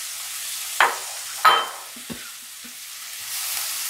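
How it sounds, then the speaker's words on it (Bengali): Ginger, green chilli and grated carrot sautéing in a pan, a faint low sizzle broken by two sharp scraping stirs and a small clack, then a soft hiss swelling slightly at the end. "আদা, লঙ্কা কুচিয়ে রেখেছিলাম সেগুলো দিয়ে দেব। সেই সঙ্গে একটু গাজর গ্রেট করে রেখেছিলাম সেটাও দিয়ে দিলাম। এগুলো সব মিশিয়ে একটু সাঁতলে"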